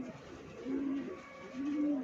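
Flying-breed pigeons kept at a rural pigeon loft coo twice in low, rounded calls, one after the other, over a soft hum of background noise.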